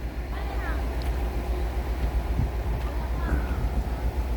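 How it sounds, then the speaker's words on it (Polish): Steady low wind rumbles and buffets a microphone outdoors on a beach in the Philippines, with a faint distant engine-like drone underneath. "Wiatr wieje"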